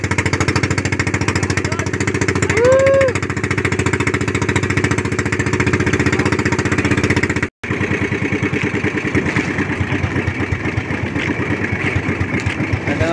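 A fishing boat's motor runs loud and steady throughout, with a rapid, hammering putter that briefly cuts out for an instant midway before resuming at the same pace.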